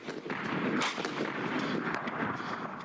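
French CAESAR artillery gun firing during a night operation in Iraq, a loud cluster of sharp booming blasts and cracks with a few distinct impacts spread over a few seconds, close and dominant, without speech.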